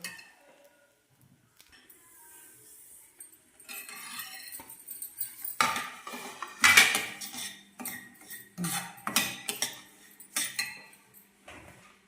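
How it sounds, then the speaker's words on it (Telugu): A metal utensil stirs food frying in a pan until golden, giving irregular bursts of close clinks and scrapes against the pan with quiet gaps in between. "గోల్డ్ కలర్ వచ్చే వరకు ఇలా ఫ్రై చేసుకోవాలి"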